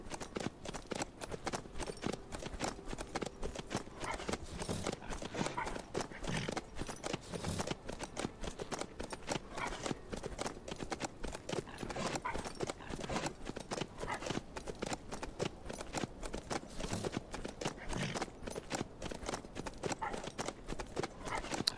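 A horse clip-clops at a steady, rapid pace while being ridden in the video game HumanitZ, the hooves dense and continuous over a long stretch, with voices talking faintly in the background.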